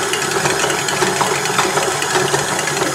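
An electric mixer whips egg whites at rising speed, a loud continuous motor whir with a rattling, vibrating edge, close by and steady throughout.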